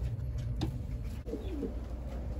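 Racing pigeons cooing in a loft, soft low coos repeating at a moderate distance, with faint bird chirps in the background.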